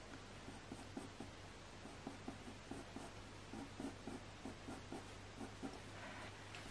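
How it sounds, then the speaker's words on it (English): Coloured pencil scratches across paper while drawing a realistic hedgehog, giving soft, quiet, rhythmic strokes in short repeated bursts over a low steady hum. "making sure not to draw a line over these spines"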